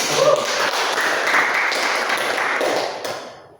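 An audience at a workplace motivation training session bursts into dense, even clapping that holds steady, then fades away over the last half second.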